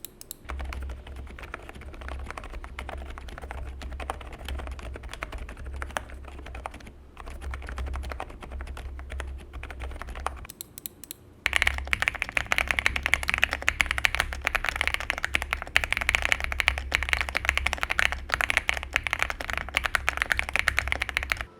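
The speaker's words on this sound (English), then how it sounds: "Let's first listen to our two ABM keyboards stock." A CIDOO ABM066 mechanical keyboard fitted with stock mint switches and PBT keycaps is typed on continuously in rapid, close clacking runs, with a brief pause before a louder, brighter stretch of typing.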